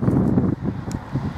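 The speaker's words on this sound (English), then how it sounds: "A little bit windy." Wind blows outdoors on a bright day near a bench, buffeting the microphone as a steady, low rumble with gusty swells.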